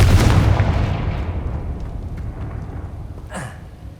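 A Confringo fire spell blast in the Hogwarts Legacy video game lands as a heavy explosive boom that rolls away over a few seconds, with a brief whooshing flare just before it fades.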